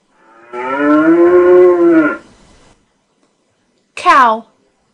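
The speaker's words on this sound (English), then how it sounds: "Cow." A cow gives a long, loud, close moo, then after a short pause a second, brief rising call.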